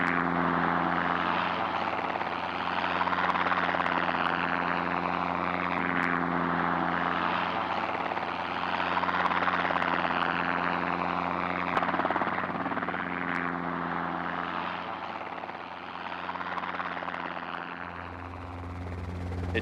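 Helicopters mustering cattle drone continuously in the distance, the rotor thrum rising and falling slightly over a long stretch with no other sounds.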